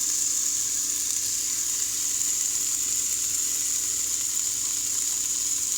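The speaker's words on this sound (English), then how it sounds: "As these onions are cooking over on one side" Onions fry in oil in an Instant Pot for vegetable pulao, giving a steady, close, even sizzle with fine crackle that holds at one level throughout, with no voices.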